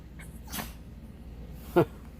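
A single short, sharp sneeze from a dog, with a soft snuffle just before it, in an otherwise quiet room.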